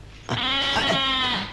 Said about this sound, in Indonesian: Suara apaan tuh? Kambing ya?